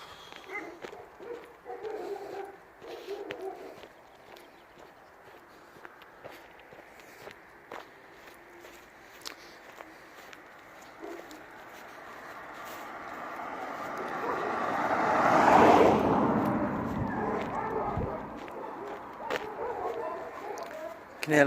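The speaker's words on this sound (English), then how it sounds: "I can hear loads of dogs." A crowd of many dogs barking from a house a distance away, heard faintly and continuously across an outdoor walk near Holbeach Bank, with footsteps and ambient outdoor noise, swelling briefly midway.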